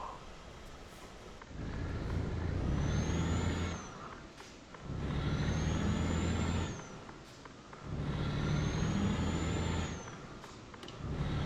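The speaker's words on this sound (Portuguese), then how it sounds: "Barulho de caminhão brabo," Heavy truck engine in the Euro Truck Simulator video game, with Volvo and Scania trucks, sounding in three long loud bursts of revving engine roar, each ending in a brief hiss of air brakes, with quieter gaps between.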